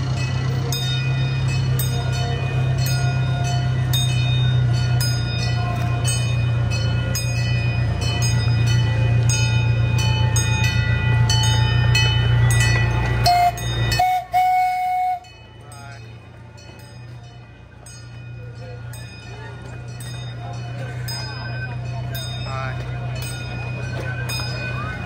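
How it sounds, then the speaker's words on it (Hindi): A small amusement park train at a water park rumbles steadily past nearby, with a low mechanical drone and rattling. It cuts out briefly midway, then the rumble returns more softly, with faint voices around. "एक छोटी सी ट्रेन है जो कि मैंने कहा आपको दिखाऊं मैं।"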